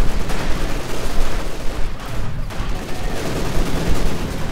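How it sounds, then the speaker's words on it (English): Battle noise from a World War II strategy game as an anti-tank grenade strikes a Panzer IV, with dense overlapping bursts of gunfire and explosions rattling on continuously. "Another anti-tank grenade on the Panzerkampfwagenvier."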